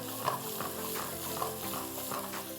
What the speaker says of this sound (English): Then I'm putting the onions in now.